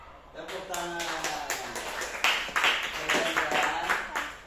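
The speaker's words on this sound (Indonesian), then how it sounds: "Tepuk tangan." A class claps for a student presenting a slogan: scattered light clapping that builds into a few seconds of applause, with a voice talking over it at first.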